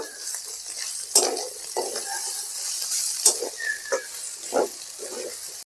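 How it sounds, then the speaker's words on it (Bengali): Raisins and cashews frying in a pan for vegetable pulao, with a bright hissing sizzle and several scraping stirs and utensil knocks against the pan, close and fairly loud, no voice. "আমি এবার কিশমিশটা দিয়ে দিলাম, কাজুটা দিয়ে দিলাম, দিয়ে এগুলোকে আরেকটু ভেজে নেব"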